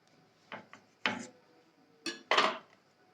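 Knife cuts through layered balushahi dough on a surface, producing four sharp, separate taps and thuds in two pairs, close and clear against near silence.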